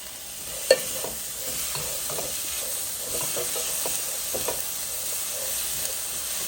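Chopped tomatoes frying in a pan over medium-high gas for masala dosa, a steady close sizzle with occasional soft stirring scrapes and one sharp clink early on.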